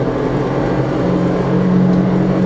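A homemade kei truck camper, a lightweight sandwich-panel build, accelerates from an expressway ETC gate. Its engine drones loud and steady, with a rising hum building toward the end.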